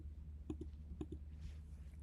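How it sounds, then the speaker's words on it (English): A computer mouse clicked twice in quick succession, then a second pair of clicks about half a second later. The clicks are faint, crisp and close, over a low hum in a quiet room. "Or if you want to just right click"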